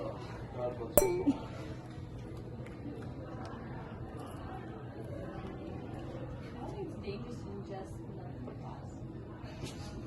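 Glasses clink once in a toast, a single bright, close chime near the start, followed by quiet background with murmuring voices.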